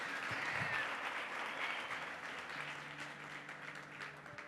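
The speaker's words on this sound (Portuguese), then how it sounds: "aplaude bem forte o nome dEle" Church congregation applauding together, a dense, steady wash of clapping heard at some distance and fairly quiet, with no voices standing out.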